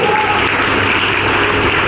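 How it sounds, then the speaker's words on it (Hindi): Applause and cheering from a large audience for Dr. Lim at a business meeting, a continuous loud wash of clapping with no pauses. "एक जोरदार ताली दीजिए डॉक्टर लिम को"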